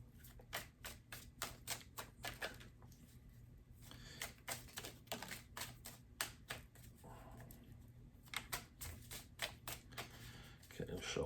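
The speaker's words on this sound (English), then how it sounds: "Okay, shuffle this one once more." Tarot cards are shuffled in quick riffling bursts, a rapid crisp flutter repeated several times with short pauses between, close and quiet.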